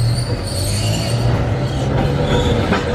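Historic tram running at Ballarat Tram Museum in Ballarat, a loud steady rolling rumble with a low hum, faint wheel squeal and rattling throughout.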